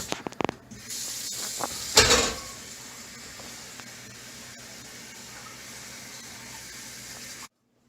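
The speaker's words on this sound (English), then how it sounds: "So we're going to get some hot water on this." Hot water runs from a kitchen tap onto a raw turkey being prepped in a sink, a steady hiss of flowing water after a few clunks and a brief louder splash, stopping abruptly.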